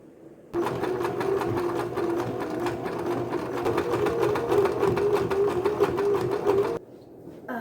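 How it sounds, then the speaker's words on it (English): A sewing machine stitches a waistband, a loud close mechanical whir with rapid rhythmic needle ticking that runs for about six seconds and then stops, heard alone without talking. "I'm going to try to sew it right now."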